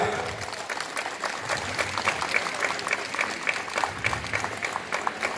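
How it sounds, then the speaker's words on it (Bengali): An audience at an outdoor civic stage event for World Environment Day breaks into steady, fairly close applause that continues throughout, with a faint crowd murmur and no clear talking. "সবাই জোরে একবার হাততালি হইয়া"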